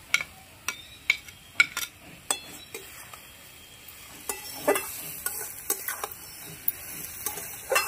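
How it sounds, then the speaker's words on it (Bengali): Fried shrimp are stirred into an ash gourd curry in a pan, with repeated sharp clinks and scrapes of a spoon against metal over a faint, quiet sizzle. "এবার ভেজে রাখা চিংড়ি মাছটা দিয়ে দেবো।"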